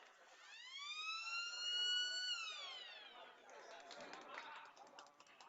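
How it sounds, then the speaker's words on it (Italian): A single rising-and-falling electronic siren blares for about two and a half seconds at a Serie A2 roller hockey match, signalling the restart of play, followed by crowd noise and an announcer's voice. "La sirena dice che si può ripartire"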